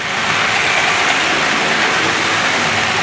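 A Hornby Triang Princess Class model locomotive runs on its track with a steady, even mechanical whir and rumble, continuous and fairly loud throughout.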